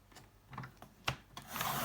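Scissors or a blade trimming a strip of patterned paper for a craft memory box, a few short, close, dry snips and rasping cuts ending in a longer rubbing scrape.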